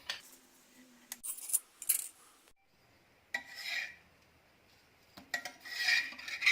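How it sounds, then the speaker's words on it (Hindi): Scraping and rubbing of a spatula flipping a pickle-stuffed Punjabi-style paratha on a pan over medium flame, a few short rasping bursts separated by quiet gaps, close and fairly soft. "अब पराठा पलटी करेंगे।"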